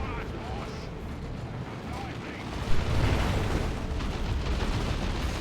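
A Dreadnought war machine is destroyed in the strategy game Dawn of War 2: Retribution, a rumbling explosion burst swelling midway through continuous battle noise, with a commentator talking over it.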